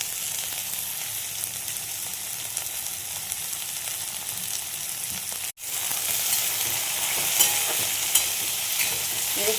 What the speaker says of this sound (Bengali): এবার সব একত্র ভেজে নেব আমি